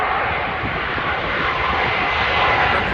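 An American Airlines airliner at Heathrow Airport gives off a loud, steady engine roar that holds evenly from start to finish, with no voices over it.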